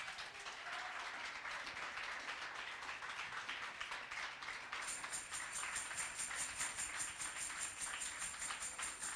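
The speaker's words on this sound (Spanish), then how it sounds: "Un aplauso para el Señor." A church congregation applauds together in sustained, dense clapping that holds evenly for several seconds, with a high electronic tone entering partway through and no voices.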